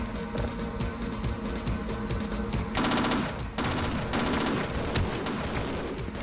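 Sustained automatic gunfire in Half-Life Opposing Force, rapid repeated shots forming a dense rattling stream with a brief heavier burst midway, loud and continuous without pause.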